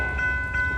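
A train rumbles across a railroad diamond where a short line crosses, with a steady low rolling roar and a sustained tonal whine throughout, fairly close and loud.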